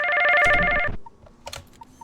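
A telephone rings in PizzaBear's Funworld, a pizzeria night-shift video game: one loud electronic trill, then quieter clicks and faint tones as the ring stops.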